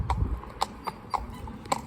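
Hooves of a cob horse walking on a road, a steady clip-clop with about seven crisp, evenly spaced strikes over a low rumble, fairly close.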